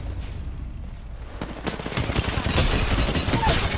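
Gunfire in the battle royale video game Apex Legends, starting softly and building into rapid, overlapping bursts that grow louder and denser toward the end, with faint voices beneath.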